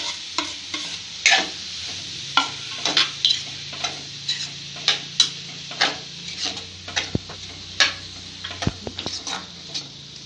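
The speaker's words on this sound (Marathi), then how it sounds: "त्यानंतर इथे आलू आपण यामध्ये ॲड करून देऊ" Boiled potatoes are stirred into sizzling samosa masala in a pan, with steady frying hiss under repeated spoon scrapes and taps on the metal, close and fairly loud for about ten seconds.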